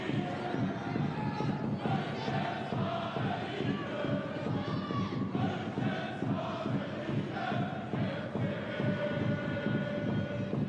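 A home crowd at a Bayern Munich football match chants in unison, a dense sustained roar of many voices rising and falling steadily, heard at a distance throughout.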